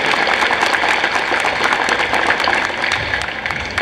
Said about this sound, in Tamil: கைதட்டு பத்தாது, 11 லட்சம் கொடுத்த கலைஞருக்கு தட்டுற கைதட்டா இது.